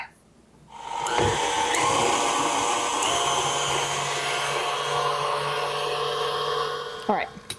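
A blender whirs through a strawberry dessert mixture, a loud, steady motor drone that starts abruptly after a brief quiet moment, holds evenly for about six seconds, then cuts off near the end.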